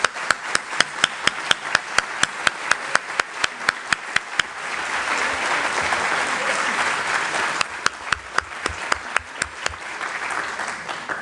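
An audience at the official opening of a 2022 AMCSTI congress applauds former presidents, starting with sharp scattered claps, swelling into a dense wash of clapping, then thinning back to scattered claps.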